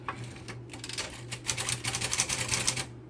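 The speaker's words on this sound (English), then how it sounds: "If you push it down, it'll type in red, and then you push it up, and it'll type in black." A manual typewriter with a red and black ribbon typing in quick irregular bursts of crisp key strikes, close and clear over a low steady hum, no speech.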